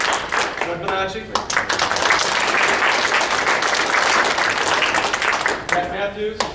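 At a city school district board organizational meeting, the audience claps for a board member, producing a sustained, full burst of applause. A voice is heard briefly before it and again as the clapping tapers off.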